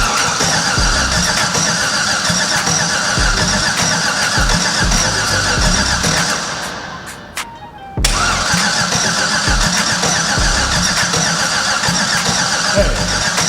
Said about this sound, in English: Trying to start the Turning car.